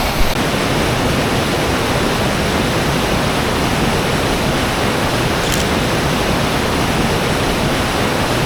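A rain-fed waterfall roars in a steady, loud, unbroken rush that fills the whole scene, with no voices over it.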